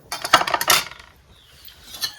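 A metal spoon scrapes and clinks against a dish while scooping out a home-made Ayurvedic cooling preparation, with a cluster of bright taps near the start and fainter clinks later.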